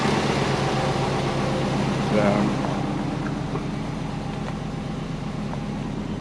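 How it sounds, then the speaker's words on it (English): A twin-turbo Subaru engine idles steadily with a low, continuous rumble close by, holding an even level for about six seconds with a faint brief rise partway through and some light background noise. "Still idling good."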